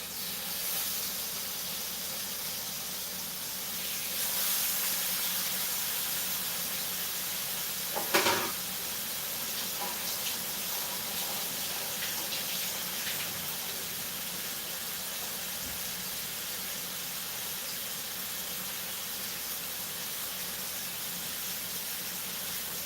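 Steak seasoned with salt and pepper fries in a pan, giving a faint, steady sizzling hiss throughout with one brief clatter partway through and no talking.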